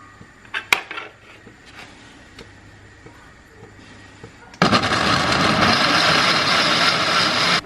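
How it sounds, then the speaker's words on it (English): After a few clinks and taps, a blender blending tomatoes starts abruptly with a loud, steady whirring roar that continues at full power until it stops. "I'm going to scoop my tomatoes into the blender and blend this into the soup"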